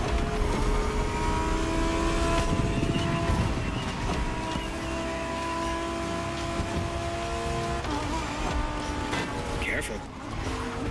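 A hypercar tuned with Liberty performance parts drives hard in The Crew Motorfest, its engine droning and revving at a steady high pitch with tire noise, while people talk over it throughout.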